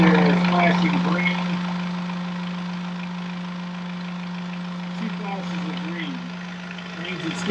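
A boat engine idles steadily with a constant low hum and a strong tonal drone, running evenly throughout while a person talks over it.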